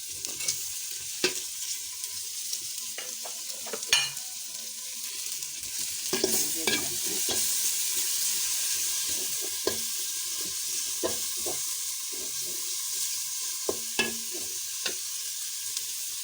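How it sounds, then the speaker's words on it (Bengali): Bay leaf, cardamom and cinnamon sizzle in hot oil for chana dal khichuri, a steady frying hiss with scattered spoon clicks and stirring taps, close and continuous. "এখন এই তেজপাতা, এলাচি, দারুচিনি এগুলো আমি দিয়ে দেবো।"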